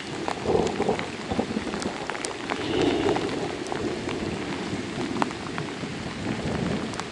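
Heavy rain pours steadily and drums on nearby surfaces, with low rumbling thunder swelling underneath at times and individual drops ticking close by, during a fishing trip.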